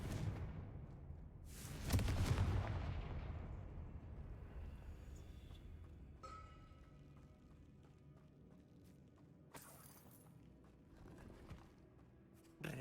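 A booming Confringo explosive spell in Hogwarts Legacy erupts near the start, rumbling out slowly, followed by quieter scattered impacts and a sharp crack later, over a low background of game noise.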